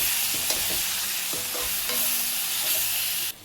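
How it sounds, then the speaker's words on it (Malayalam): Chicken curry masala with spices is stirred in a pan, the spoon scraping over a steady close sizzle for a few seconds, with no voices. "ആവശ്യത്തിന് ഉപ്പ് ആഡ് ചെയ്യാം. അതിനുശേഷം നന്നായി ഒന്ന് ഇളക്കുക."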